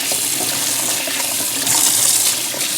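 Mushrooms are washed under cold running tap water, a steady close splashing gush that goes on without a break.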